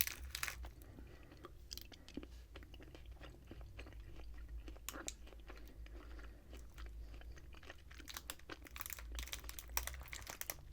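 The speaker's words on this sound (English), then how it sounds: "The bubblegum itself, once you start chewing it, is very soft." Soft orange-flavored bubblegum from an English sweets shop being chewed up close, with steady moist smacks, clicks and crinkly mouth sounds repeating throughout, no talking.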